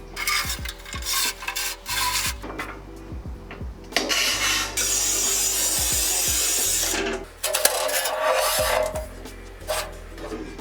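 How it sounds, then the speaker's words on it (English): A large manual tile cutter works across a 4-foot tile, making loud scraping and grinding strokes with knocks and clunks between them, close by and without talk. "Let's quickly move on to the 4-foot tile. We'll make 1 cut with that."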